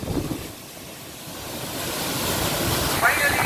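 Darbat waterfall in Salalah, Oman, a steady roaring rush of falling water mixed with wind buffeting the microphone, building slightly louder toward the end.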